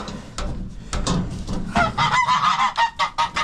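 A goose at a farm feeder honks repeatedly and loudly at close range, a rapid series of harsh, nasal calls growing more insistent toward the end.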